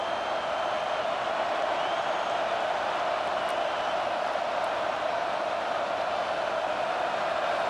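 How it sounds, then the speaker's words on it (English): A stadium crowd roars at a college football game between Texas and Arkansas as the home defense faces third down, a loud, sustained wall of cheering that holds level from start to finish. "Decibels rising as the crowd gets behind this defense on third down."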